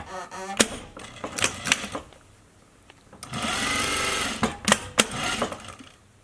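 A sewing machine stitching two layers of fabric for a face mask, right sides together, in short rattling bursts with pauses between them, then a longer steady run of stitching near the end.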